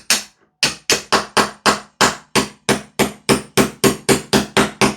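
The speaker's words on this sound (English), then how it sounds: "So hammer and a pin punch." A hammer taps a pin punch to drive a pin out of a Noveske DE rifle during a fix for premature bolt lock, about fifteen sharp, close metallic strikes in a steady, rapid rhythm after a short pause, with no talking.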